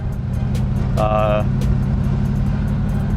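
A Shoebox Ford runs on the road, its engine a steady low drone heard from inside the car, with a voice speaking briefly over it.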